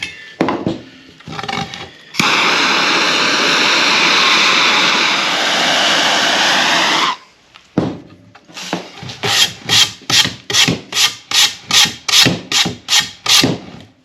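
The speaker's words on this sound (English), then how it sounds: "Now we'll sand over it a little bit" Sanding black walnut wood for a rustic coat rack: a long, steady abrasive rasp running several seconds, then a rapid series of short, rhythmic scraping strokes, close and loud with no talk.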